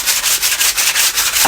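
Sandpaper rubbed back and forth across a surface in quick, even strokes, a loud, close, rhythmic scratchy rasp with no voices.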